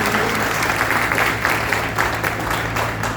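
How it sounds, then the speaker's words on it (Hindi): Steady, dense applause from an audience at a training program, continuous clapping filling the room at a consistent level throughout. "मैं चाहूंगा एक बार जोरदार तालियां विवेक सक्सेना जी के लिए।"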